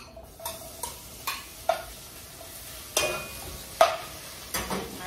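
Onions cooking over low heat in a pan, with a soft ongoing sizzle broken by a series of sharp scraping stirs roughly once a second, close and moderately quiet.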